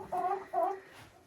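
A Lohmann Sandy hen clucks in her nest, two short soft clucks close by in quick succession, then quiet.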